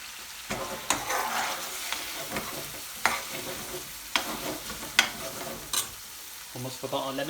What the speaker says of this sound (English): I'm still cooking the masala out now